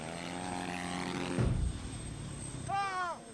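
A biplane's propeller engine drones in the MX Unleashed motocross game, a rising whine with a sudden loud whoosh midway, then a brief vocal sound at the end.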